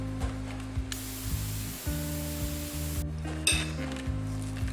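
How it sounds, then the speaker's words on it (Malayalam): An electric beater whips cream in a bowl, running with a steady motor whine and a rattling, pulsing rhythm, with a brief change in pitch partway through; close and moderately loud, no talking. "ഒരു 4-5 മിനിറ്റ് വരെ നമ്മൾ ബീറ്റർ ഉപയോഗിച്ച് ബീറ്റ് ചെയ്യണം"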